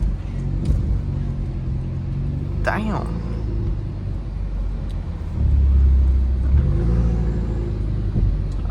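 A BMW 330i fitted with a stage 2 downpipe drives along with a steady low engine rumble that swells louder partway through as it revs, while someone talks over it.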